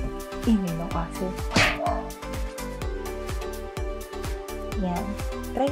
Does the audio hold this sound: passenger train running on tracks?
no